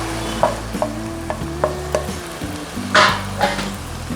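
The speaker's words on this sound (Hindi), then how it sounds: "अब इसमें हम चॉप किए हुए हम 2 अदद मीडियम साइज़ के प्याज डाल दें।" Chopped medium onions hit hot beef keema in a pan and are stirred through, with sizzling under repeated scraping and knocking strokes of a spoon, close and fairly loud with no speech.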